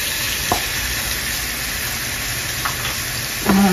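Salmon sautéing in a pan with onions and red bell peppers gives a loud, steady, close sizzling hiss, broken by a few faint clicks and stirs, with no talking.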